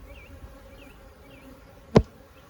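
A honeybee colony in a normally aggressive hive that has a new queen gives off a faint, steady buzzing hum. A single sharp click or knock cuts in near the two-second mark.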